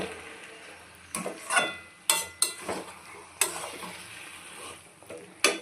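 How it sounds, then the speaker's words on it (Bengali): Curry being stirred and sautéed in a pan, a spoon scraping and clinking against the metal in irregular bursts over a faint, steady sizzle of oil, close up. "আস্তে আস্তে সুন্দর করে কষাই"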